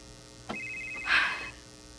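A cellphone rings in a Cebuano radio drama, one steady electronic tone sounding for about a second amid a low background hum, with no talking during the ring.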